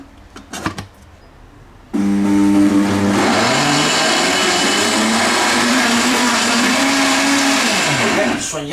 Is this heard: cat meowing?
no